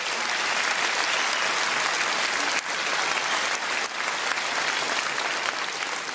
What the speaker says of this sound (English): Round of applause for your local candidates.